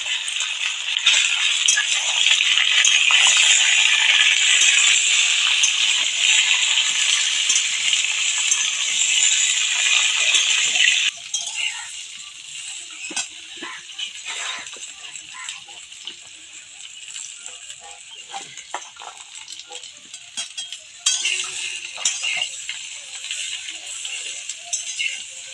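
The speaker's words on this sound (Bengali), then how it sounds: "তেলটা দিয়ে ভালো করে আমি কড়াতে নেড়ে নেব।" Washed, sun-dried flowers are stirred in oil in a wok, producing a steady bright sizzle and scraping rattle that drops off partway through to softer, intermittent clinks and stirring sounds.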